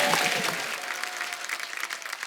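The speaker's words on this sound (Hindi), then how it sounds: "जोरदार ताली हो जाए।" Loud applause from a comedy show studio audience, a dense continuous wash of clapping that fades slightly toward the end, with no talking over it.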